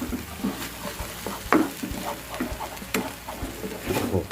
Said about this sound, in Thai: เนี่ยก็จะผัด จนกว่าหอมมันจะสุกนะครับผม